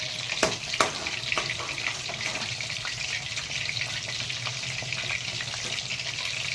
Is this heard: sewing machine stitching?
no